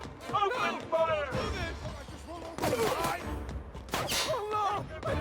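Gunfire in The Outer Worlds video game, several bursts of rapid shots crackling over frantic shouting voices, fairly quiet in the mix.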